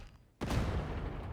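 Grenade launcher explosion in the video game Warhammer 40,000: Darktide, a sudden loud boom after brief quiet that rolls into a sustained rumbling, crackling blast wash with no talk.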